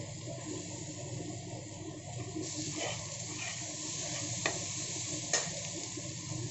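Okra frying in a pan is stirred with a spatula, giving a steady sizzle throughout with a few faint clicks of the utensil against the pan, close up and with no talking.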